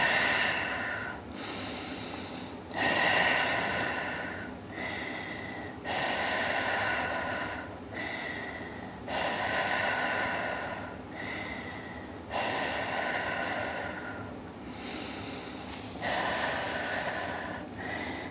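Deep, rhythmic breathing during a Bosu core workout, with long forceful inhales and exhales repeating every couple of seconds, close and fairly loud with no talking.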